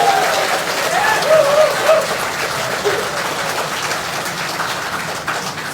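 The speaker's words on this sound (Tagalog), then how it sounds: "isang mainit na palakpak bilang pasalamat sa" An audience applauds at a public gathering in Pandacan, Manila, with sustained, dense clapping throughout and a voice faintly heard early on.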